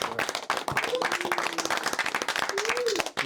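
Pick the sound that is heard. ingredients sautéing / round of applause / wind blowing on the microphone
round of applause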